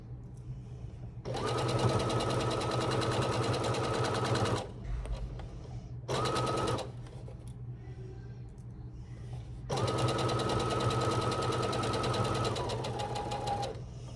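A sewing machine stitches a summer tote bag in several bursts: a long run, a short one and another long run, with pauses for turning at the corners. The motor whir is close and sits over a low background hum.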